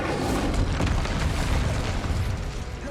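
A Confringo fire spell bursting in Hogwarts Legacy on PS5, heard as a loud, sustained booming blast with a rumbling low end that rolls on for the full three seconds, with no voices over it.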